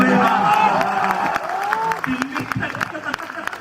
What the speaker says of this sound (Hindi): बिहार के नाम एक बार हाथ उठा करके ताली बजाइए